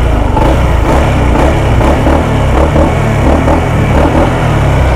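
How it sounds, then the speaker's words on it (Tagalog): A Honda PCX 160 scooter on its stock exhaust runs loud and close, a steady engine drone with rhythmic low pulsing that holds throughout without a break. "pakinggan natin yung stock na exhaust ni PCX 160"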